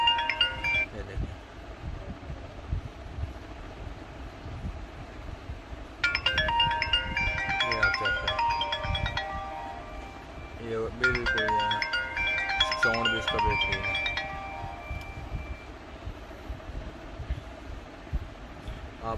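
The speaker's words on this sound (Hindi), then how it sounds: "मैं आपको इसकी वॉल्यूम चेक करवाता हूँ। जो इसके अंदर इसकी ट्यून है वो भी ओरिजिनल जैसी ही आवाज़ आती है" Ringtone of a Turkish copy iPhone 13 Pro Max playing loudly in two bursts of chiming melodic tones, with someone talking over it and between the rings.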